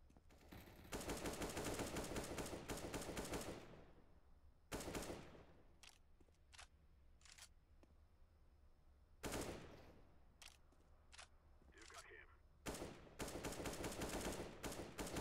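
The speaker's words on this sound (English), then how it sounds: "Gonna be like 83 bullets shot in this 1 second." Rapid automatic gunfire from the game Counter-Strike: Global Offensive, loud sustained bursts of dense shots separated by a few sharp single cracks and brief pauses, with no talking.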